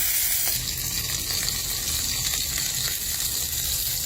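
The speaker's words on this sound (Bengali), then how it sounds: "এখন মাছের মাথাটা ভেজে নিচ্ছি" A hilsa fish head fries in oil in a miniature clay kitchen, giving a close, dense, continuous sizzle with no voices over it.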